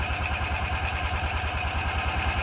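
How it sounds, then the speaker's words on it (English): A freshly built engine running at a steady idle, a close, even pulsing rumble with a regular rhythmic beat throughout. "This may be the best engine I've ever built for one of these."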